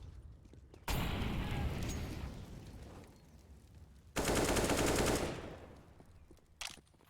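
Two long bursts of rapid gunfire ring out in a Counter-Strike esports match, each lasting a few seconds and separated by a quieter gap, followed by one short final shot.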